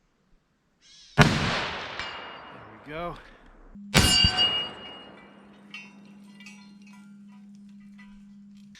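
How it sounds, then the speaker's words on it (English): A loud rifle report from a 1943 Remington 03-A3 in .30-06, followed moments later by a second sharp shot and a ringing metallic clang off a swinging 10-inch round steel gong, the tone lingering afterward; a brief voice speaks between. "the swinging 10-inch round gong on the left"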